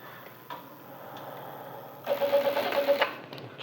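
A sewing machine stitching a shirt collar, a quiet stretch of handling and a click before a burst of rapid, rhythmic mechanical stitching in the last second and a half, close and moderately loud.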